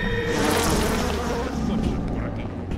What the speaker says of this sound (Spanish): Ahora el enjambre de moscas